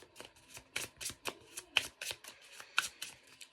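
Someone shuffles a Tarot del Toro deck of cards in an even rhythm of crisp, papery flicks, soft and close with no talking.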